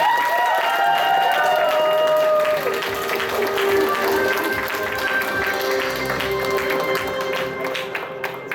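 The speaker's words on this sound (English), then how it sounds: "Give them a round of applause one more time" An audience at PortCon Maine 2019 applauds steadily for several seconds, dense clapping over a sustained musical chord, gradually thinning out toward the end.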